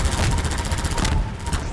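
Rapid bursts of helicopter gunfire in Half-Life 2 Synergy crackle continuously, a dense rattling stream of shots with a faint steady tone underneath.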